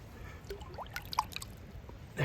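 A brown trout slipping back into a stream, faint drips and small splashes with a brief watery gurgle, then a louder burst of splashing at the end, quiet and close.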